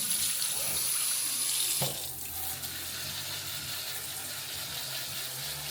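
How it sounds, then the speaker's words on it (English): Tap water runs over chopped onions being rinsed in a kitchen sink, a steady close gush that drops slightly in level partway through, with no talking. "So that's why you're rinsing them?"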